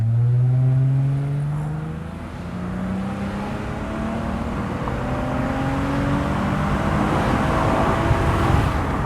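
A Lexus IS250 with a louder aftermarket Pirtech exhaust revs up through rising tones as it accelerates in second gear, a throaty low roar building steadily with wind noise.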